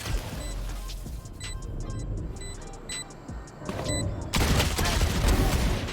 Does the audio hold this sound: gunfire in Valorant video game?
yes